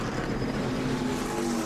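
NASCAR Nationwide Series stock cars accelerate out of pit road at Richmond during the 2009 Lipton Tea 250, a steady, loud wash of engine roar with tonal drones rising in pitch and no voices heard.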